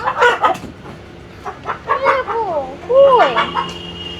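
Desi chickens at a farm cluck close by in short, repeated bursts and rising calls, with people talking in the background.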